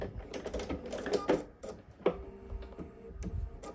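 A sewing machine stitching a zipper down with a back stitch, giving a run of quiet mechanical clicks and whirs with brief pauses, faint and close.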